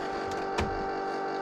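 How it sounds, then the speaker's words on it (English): Continuous mechanical whine and hum of the emergency backup power steering and brake pump running steadily on a 2012 Itasca Sunova RV, with a brief click partway through, close and fairly loud, no talking. "that noise you hear, that's the emergency backup power steering and brake pump is running"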